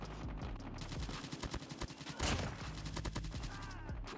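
Rapid gunfire from a Gold KN-44 rifle in Call of Duty Mobile rattles out in repeated short automatic bursts, sharp and close, with a louder blast midway and brief pauses between volleys.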